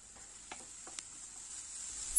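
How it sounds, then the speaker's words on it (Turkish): Three medium onions, finely chopped, frying in hot oil: a faint, steady sizzle runs throughout, with a few soft stirring clicks near the start. "3 adet orta büyüklükte ince ince kıymış olduğum soğanları da kızgın yağın içerisine ilave ettim."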